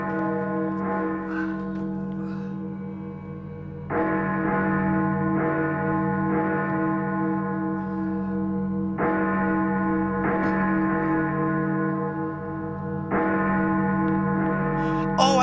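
Church bells from a horror film toll in slow, heavy strokes, each new peal swelling loud over a lingering, reverberant ring, with several strikes landing across the passage and no voices.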